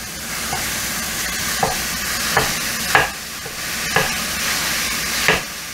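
Ground beef (85/15) sizzles steadily in a pan while a utensil breaks it apart, adding regular scraping knocks about once a second over the close frying crackle, with no talking.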